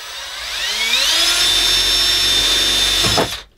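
A power drill spins up with a rising whine and bores through aluminum inside an Airstream RV while an oven and vent are installed. The whine holds loud and steady, then cuts off abruptly after about three seconds.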